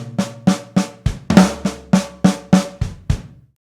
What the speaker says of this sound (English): now it's a left flam instead of a right flam like that. That one will give us a bit more aggression because we're really hammering a backbeat on this snare drum